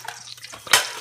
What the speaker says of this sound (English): that's water popping in the pot